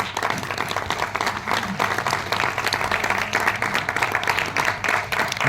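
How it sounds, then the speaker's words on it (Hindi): An audience at a seminar in Ahmedabad, Gujarat, claps steadily, a dense, even wash of applause that holds throughout, with no voices standing out. "तो आपकी जोरदार तालियों के बीच में सुभाष जी,"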